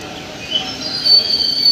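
A train at a railway platform, with a faint metallic squeal of wheels rising toward the end over a low rumbling station hum, and light voices in the background.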